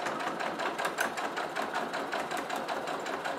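A sewing machine stitches a seam about 5 mm from the fabric edge on a roll-up pouch, a fast steady mechanical chatter of needle strokes running continuously close by, with no talking.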